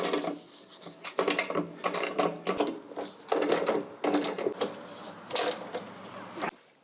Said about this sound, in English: I'm just going to go ahead and use the ratchet.